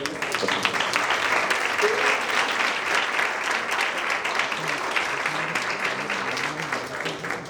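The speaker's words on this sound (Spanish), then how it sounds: "le otorgamos por favor un aplauso a nuestro ponente" Audience applause for a lecture speaker at a university talk on family, university and business; dense, even clapping from a seated crowd continues steadily throughout.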